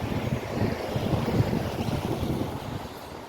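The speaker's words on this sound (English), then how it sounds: "It's windy. Wind chill." Steady wind gusting outdoors on a cold, windy day, a broad continuous rush buffeting the microphone with a low rumble throughout, no voices.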